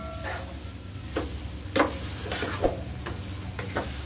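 Cake halwa with added sugar is roasted in a pan over medium heat, a low sizzle broken by several scattered scraping and tapping stirs, moderately quiet with no talk.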